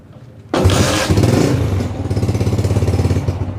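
A Honda CG 125 motorcycle fires up on its first kick, catching abruptly and settling into a close, loud, evenly thumping single-cylinder idle.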